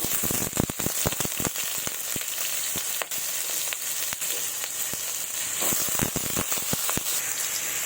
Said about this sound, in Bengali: এবার আমি ছোট ছোট করে কেটে রেখেছি আলুগুলো তেলের মধ্যে ভেজে নেব